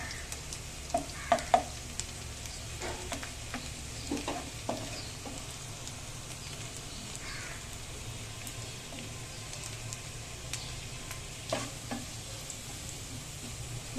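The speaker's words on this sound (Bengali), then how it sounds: "তাই আমি আগে পেঁয়াজটা বেরেস্তা করে নিচ্ছি" Onions frying in a pan until browned for an egg korma, a steady broad sizzle with scattered clicks and scrapes of stirring, fairly close and continuous with no talk.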